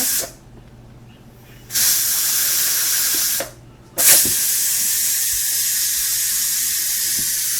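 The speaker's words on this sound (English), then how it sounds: "So it's letting out all the steam, so you do not want to touch this with your bare hands." A pressure canner used for green beans vents steam in loud, sustained hissing bursts: two long blasts separated by brief pauses, close and without talk.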